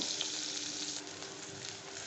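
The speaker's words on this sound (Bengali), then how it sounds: "পটলের এই ধারটাও কিন্তু আমি ভাজা হতে দেব" Pointed gourd (potol) pieces frying in hot oil for a vegetarian tel potol dish, a steady dense sizzle filling the whole short stretch, close and even with no voices.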